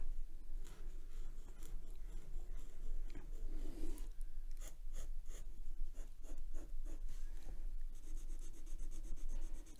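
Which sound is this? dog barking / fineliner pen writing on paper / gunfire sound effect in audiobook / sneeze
fineliner pen writing on paper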